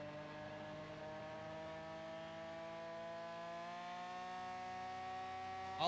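A car in GTA V roleplay idles with a swapped engine, a steady loud droning hum rich in overtones that holds evenly, then jumps sharply at the very end.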